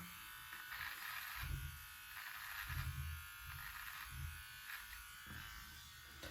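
An electric beard trimmer buzzes steadily close up as it takes off wispy cheek hair, with the motor's tone dipping in short repeated strokes as it passes over the skin.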